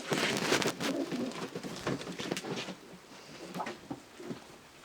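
Pigeons of Meulemans, De Klak and Janssen breeding lines coo softly in a breeding loft, low murmuring calls repeating over faint clicks and shuffles, quiet and close.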